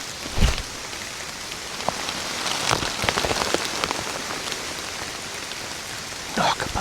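Rain patters steadily on leaves around a tree stand in the woods, with scattered louder drips and drops striking nearby close to the listener; no talking.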